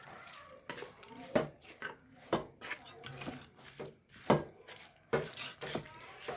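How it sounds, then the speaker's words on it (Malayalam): Vadukapuli lemon pickle is mixed in a pot, with irregular scraping clanks of a spoon against the metal rising and falling in quick strokes while a person talks over it. "നന്നായി മിക്സ് ചെയ്യുക കേട്ടോ"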